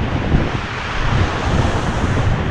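Steady wind roars across a surf-fishing beach at Mayaro, Trinidad, with waves washing in under it, a loud, continuous rush without pauses.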